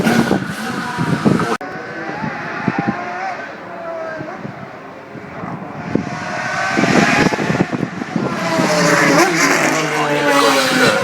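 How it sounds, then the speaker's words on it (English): A Ferrari 312T Formula 1 car at the Goodwood Festival of Speed roars loudly past nearby, with engine tone shifting as it goes by and an announcer talking over it. "312T, T for transversali, denoting the transverse layout of the gearbox. Ferrari."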